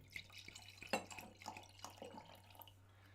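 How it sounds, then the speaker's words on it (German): Grüner Veltliner white wine is poured into a glass during a Viennese Wienerlied livestream, giving a soft trickling splash under faint room noise and a steady low hum. "Da fallen schon die Achtel rein. Ich gieße ein."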